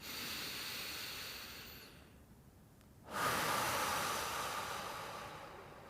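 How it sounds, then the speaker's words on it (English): Deep, slow breaths are taken during a desk mobility exercise: a long, airy inhale through the nose, a brief pause, then a fuller exhale through the mouth, close and breathy, with no talking. "nice big inhale, and exhale"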